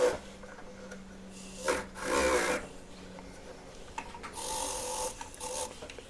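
A cheap £1-shop polishing mop buffs a ring, giving soft, faint rubbing and whirring bursts that swell and fade twice over a low steady hum, with no voices.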